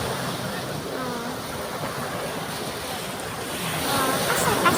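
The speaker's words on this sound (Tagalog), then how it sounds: "Saka hampas ng alon dyan." Ocean surf rolling onto a La Union beach with strong wind buffeting the microphone, a continuous roaring wash that swells slightly louder toward the end.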